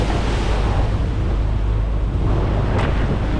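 Strong sea waves surge and break around a boat on open water. They make a constant loud roar mixed with buffeting wind, with a brief sharp splash near the end.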